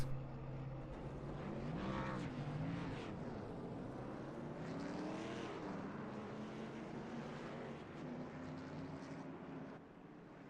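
Several race car engines fire up and run for race six at Las Vegas, blending into a fairly faint, sustained drone whose pitch wavers and sweeps as they idle and rev, with no talking.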